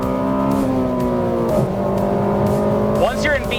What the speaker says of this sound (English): I'm going to roll into it in first gear so you can just see exactly what I'm talking about